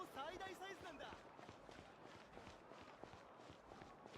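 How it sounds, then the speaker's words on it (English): Heeled footstep sound effects from the Genshin Impact video game with the music off, a quick run of light, clicking steps under continuous talking. "those sound like heels"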